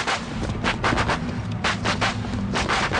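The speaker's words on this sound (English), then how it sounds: "Fireworks." Fireworks burst in a rapid irregular series of sharp cracks and pops, loud and close, with no voices over them.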